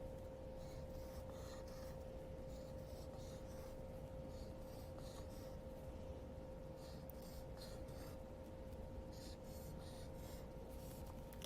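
A pencil draws squares on paper in a simple classroom math exercise, making soft, repeated scratching strokes in short runs over a steady background hum, faint and close, with no voices.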